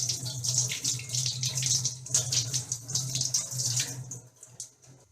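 A Bosch dishwasher filter is rinsed under a running kitchen tap, close splashing water with shifting, uneven spatter as the filter is moved through the stream.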